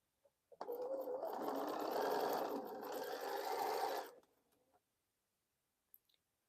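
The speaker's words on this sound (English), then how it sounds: "So let's sew this." A sewing machine runs in one continuous burst of about three and a half seconds as it stitches quilt block units, framed by a few small clicks before and after, close and steady with no talk.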